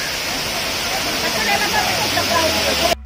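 Water rushing down a waterfall in Satpura Tiger Reserve, Pachmarhi, a loud, steady broadband roar heard close by, with a voice talking over it before cutting off abruptly at the end.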